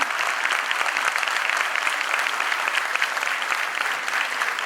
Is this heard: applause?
yes